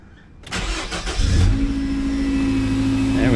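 A 2.5-litre Nissan Frontier engine fitted with a K&N air filter cranks and fires up close by, then settles into a steady, loud idle with a sustained hum.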